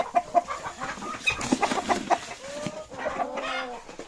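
Chickens cluck and a rooster calls close by in a backyard poultry flock, a busy overlapping mix of short clucks and longer drawn-out calls with no talking.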